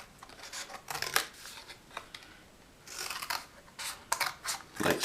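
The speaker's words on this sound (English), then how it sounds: "Now let's take a scissors and cut these angles off." Scissors snip the corners off a paper triangle in a series of crisp, close cuts that come in short clustered bursts with brief pauses between them.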